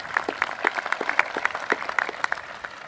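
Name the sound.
graduation ceremony audience applause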